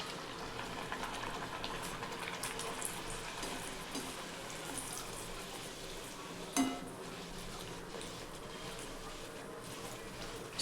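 Sago and barnyard millet puris fry in hot oil with a faint, even bubbling sizzle, broken once by a soft clink near the middle.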